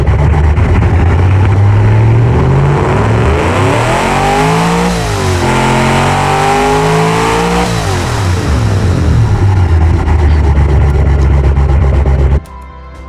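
A car engine in the Automation game, fitted with twin carburetors from the Eco, fires up and runs loudly throughout, its revs climbing and then falling in a smooth sweep before cutting off abruptly near the end.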